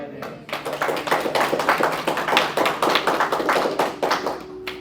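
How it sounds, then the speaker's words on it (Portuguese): Church congregation clapping hands together in a sustained round of applause, many close claps blending into a lively, steady patter that continues for several seconds without speech. "Posso ouvir um glória a Deus? Salva de palmas."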